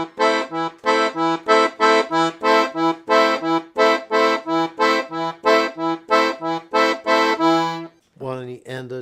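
A piano accordion plays a samba pattern, loud, close, reedy chords pulsing in a quick, even rhythm with a bass note under them, followed by a brief different sound at the very end that may be a voice.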